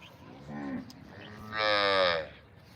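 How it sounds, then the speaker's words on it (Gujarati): Two long, deep moos from Kankrej cows, the second louder and higher, with a short quiet gap between them and no talking. "હજી તો ભાઈ ગાયો આવી રહી છે"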